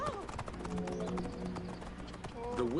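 Horse hooves clip-clop along a wide city street in the Assassin's Creed Origins Discovery Tour, a steady rhythm of steps heard under continuous narration, with a brief whinny-like sound near the end.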